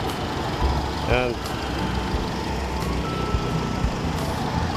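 A Mitsubishi Lancer engine runs after a fuel pump replacement, idling steadily through the clip, with a reversing beep chirping briefly near a gate in Las Marinas and background voices.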